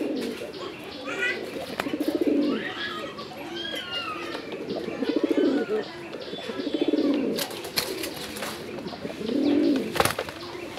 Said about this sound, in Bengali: চলুন এটার ডাকটাও কিছুক্ষণের জন্য শুনে আসি